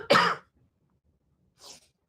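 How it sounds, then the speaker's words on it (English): One sharp, close cough, then silence and a softer second cough or throat clear about a second and a half later. "I had this dang cough"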